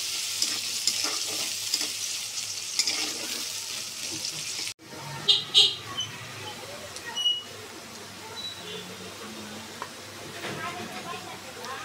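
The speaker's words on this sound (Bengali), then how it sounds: "পেঁয়াজটা আমি ভালো করে একটু ভেজে নিই।" Chopped onions fry in a kadai while being cooked for a brinjal and tangra fish curry, with a close, continuous sizzle and loud scraping stirs and clatters from a spatula in the pan.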